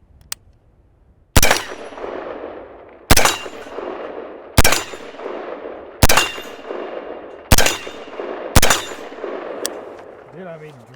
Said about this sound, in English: That's like a 6-inch gong, 50, 60 yards, and hitting it every time.